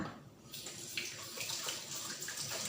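Hands are washed under a running kitchen tap, a steady close stream of water that splashes and changes tone as the hands move through it, with no speech.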